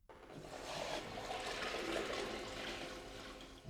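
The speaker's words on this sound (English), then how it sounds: "the toilet could still be flushed by pouring a bucket of water into the bowl" A toilet flushed by pouring a bucket of water into the bowl, a steady rushing gush of water with gurgling that lasts several seconds, close and fairly loud, with no talk.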